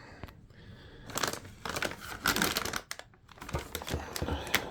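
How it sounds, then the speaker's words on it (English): Packaging of a PC component is unwrapped up close: bursts of crinkling and tearing plastic and paper come in irregular rustling spurts with short pauses between. "Let me unwrap that for a second."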